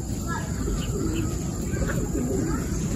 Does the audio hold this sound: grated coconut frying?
no